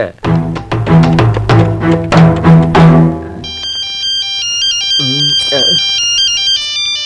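A mobile phone ringtone plays loudly and close, a bright repeating electronic melody that settles into a high looping pattern, with a short burst of voice partway through.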